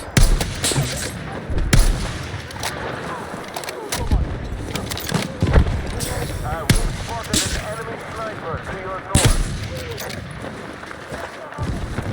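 Sharp sniper rifle shots and scattered gunfire from the video game Battlefield 6 ring out in bursts, several loud cracks spread through a busy battle soundscape while players talk over it.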